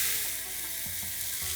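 Ginger garlic paste sizzles steadily in hot oil while frying for a chicken bhuna masala, with a few soft stirring scrapes partway through and no talking.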